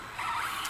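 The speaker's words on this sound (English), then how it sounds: "Trevor's having a little fun with the infraction" An Arrma Infraction RC car drives around outdoors, giving a brief, steady high-pitched motor whine at moderate distance with no talking.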